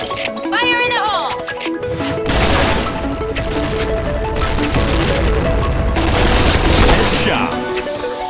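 Grenade blast and rapid gunfire in the Point Blank shooter game, a dense, loud barrage of shots and explosions over steady in-game music and effects, with game voice callouts mixed in.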